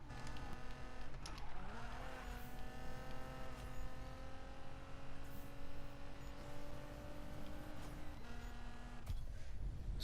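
A Nissan GT-R R35 race car in Need for Speed 2015 holds a steady, sustained engine drone with tire squeal and skidding, a gear shift near the start and another near the end.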